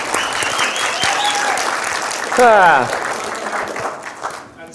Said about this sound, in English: Can I have a little round of applause for Chris Johnson, please?